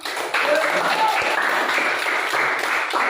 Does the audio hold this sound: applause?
yes